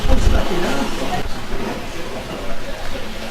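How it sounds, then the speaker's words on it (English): A goods train rolls slowly through a big curve at a West Somerset Railway station, giving a steady rumbling wagon noise with faint clanks and hiss, close and continuous, with some talk mixed in. "The goods train slowly makes its way through a big curve where the station is"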